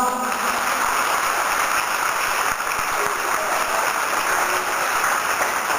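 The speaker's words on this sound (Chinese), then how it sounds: "我们大家给他们掌声好不好" An audience in a high school event applauds students and their teachers, a dense, steady clapping that fills the room from start to finish.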